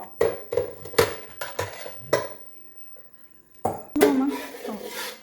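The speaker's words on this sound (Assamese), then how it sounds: "বা কি কৰিছা বাচন আনিছোঁ" Dishes and utensils clatter as they are handled in a home, several sharp clinks and knocks in quick bursts with a pause before a final rattle, close and loud.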